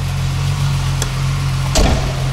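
A VR6 engine idles through a 63.5 mm all-stainless-steel exhaust with a matching 63.5 mm tailpipe, a steady, loud low rumble close by with a brief blip near the end.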